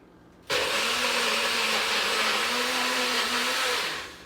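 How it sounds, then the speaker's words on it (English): A NutriBullet blender roars to life after a short quiet moment, running loud and steady with a high whine before easing down at the end. "let's go ahead and get this onto our NutriBullet, press down, and it's about to get loud"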